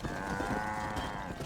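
Cattle herd mooing in the Western video game Red Dead Redemption, low drawn-out lowing calls blending over a continuous ranch background.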